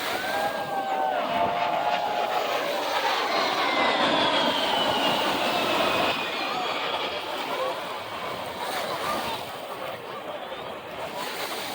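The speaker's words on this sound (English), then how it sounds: "A10." An A-10 military jet flies over a beach with a long, rising and falling roar that stays loud throughout, mixed with wind and crowd noise.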